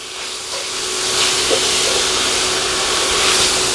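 Chopped green peppers and minced garlic cooking in a pan, a loud, steady hiss of sizzling that swells slightly and holds without pause.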